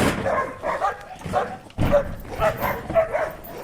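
A dog in Yakutsk barks in a quick series of about seven short, close, loud yips and barks.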